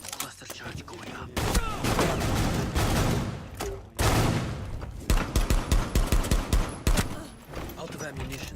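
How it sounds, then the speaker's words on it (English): Fuze's cluster charge in Rainbow Six Siege detonates as a rapid string of sharp explosive bursts, loud and close, with more gunfire and a rhythmic run of blasts toward the end. "Cluster charge going up."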